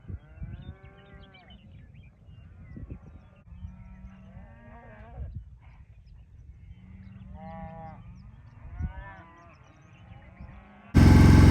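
A herd of cattle being gathered off a winter pasture, repeated moos and bellows from several animals at varying distances, ending in a burst of loud wind noise.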